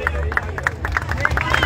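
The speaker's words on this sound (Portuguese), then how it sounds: "Vamos aplaudir, gente." Crowd applause at a futsal cup final trophy ceremony, quick uneven rhythmic clapping at moderate distance with a murmur of voices underneath.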